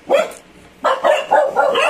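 Small dogs kept inside the rooms of a house bark repeatedly, one sharp yap and then a rapid run of four or five loud, close barks with no talking.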